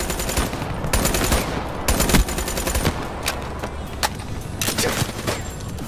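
Rapid automatic gunfire from a player's unmodified gun in a shooter video game, bursts of sharp cracks in quick rhythm, loud and close, with brief gaps between volleys.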